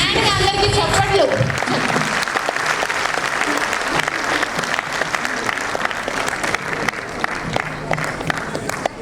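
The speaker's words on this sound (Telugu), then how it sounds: "ఒకసారి గ్రాండ్గా అందరికీ చప్పట్లు." An audience at a kids' fancy dress event at a Telugu gathering in Thane West breaks into loud, sustained applause, dense clapping that carries on for the whole stretch, with a voice briefly heard at the start.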